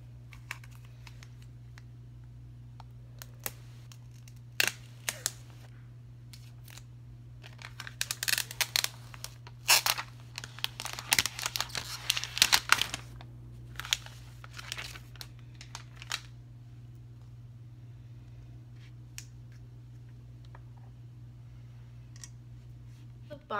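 Box packaging for an Apple iPad Air 2 being unwrapped, with scattered crinkling, tearing and clicking bursts that cluster into a louder stretch midway over a steady low hum.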